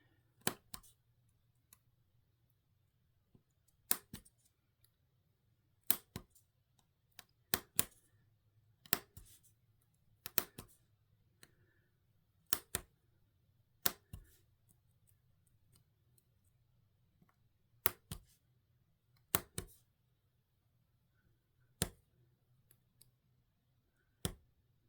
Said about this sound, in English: So we'll go ahead and cut them out, maybe.